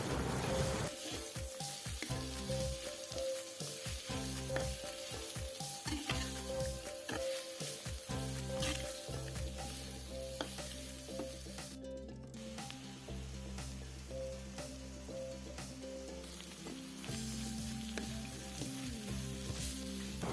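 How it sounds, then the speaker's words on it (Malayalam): Onions with salt sautéing in a pan for chicken kadai, giving a dense, continuous sizzle and crackle with occasional stirring scrapes, close and steady throughout with no voices. "ഇതിലേക്ക് കുറച്ച് ഉപ്പിട്ട് നമുക്ക് നല്ലവണ്ണം വലിയ ഉള്ളി വാട്ടിയെടുക്കണം"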